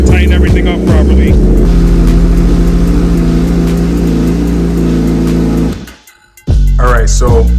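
A Honda CBR 1000rr sportbike engine runs warmed up at a rumbling idle with a few throttle blips, close and loud, then cuts out briefly before firing again, with a voice talking over it.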